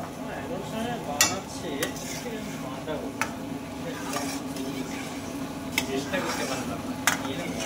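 Chicken cooks in a pan at a street food kitchen, producing a soft continuous sizzle under repeated metallic scrapes and clinks of a utensil stirring against the pan, with faint voices in the background.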